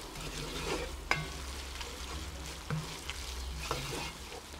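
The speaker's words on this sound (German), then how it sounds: "Und dann rösten wir das Ganze noch mal so ein paar Sekunden mit an" Jalapeños roasting in a Dutch oven during goulash cooking crackle and fry steadily while a spoon stirs, scraping the pot with a few sharp knocks across the few seconds.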